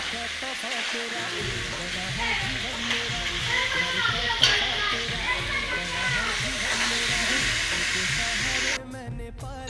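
Chicken goes into hot oil for Bengali chicken kosha, setting off a loud, steady sizzle and hiss that runs nearly ten seconds with occasional stirring, while someone talks over the frying.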